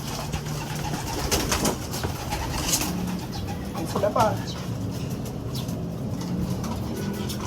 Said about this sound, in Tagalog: Nagkakagulo na yung mga ibon natin par.